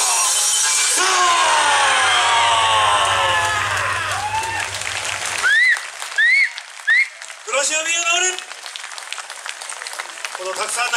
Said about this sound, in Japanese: このたくさんの拍手に感謝を込めて